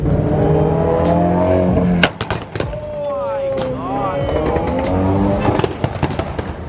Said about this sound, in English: That was the loudest Ferrari I've ever heard